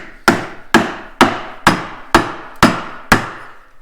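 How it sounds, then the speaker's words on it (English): A dead blow hammer strikes an aluminum exhaust part on a 650SX personal watercraft seven times in a steady rhythm, each blow a sharp, loud thud with a short ring and no talking. "It's always best to take a dead blow hammer."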